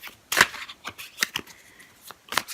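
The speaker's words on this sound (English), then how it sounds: "I'm going to start by shuffling the first deck here." A Rider-Waite tarot deck being shuffled by hand, with several quick papery riffles and flicks spaced across a short, quiet passage, the loudest burst near the start.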